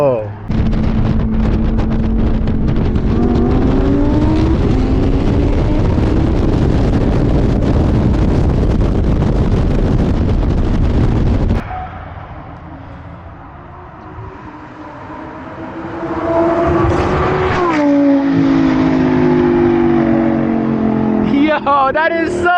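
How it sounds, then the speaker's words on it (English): A loud roaring engine passes close with wind buffeting, fading briefly before another car surges past with rising engine pitch and a rushing intake growl, as a Lamborghini Huracan RWD EVO Spyder races a stage 2 BMW. "All you hear is the intake and then you hear the Lambo."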